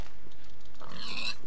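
Pig grunting in a video game, a short close oink burst over a steady ambient hiss.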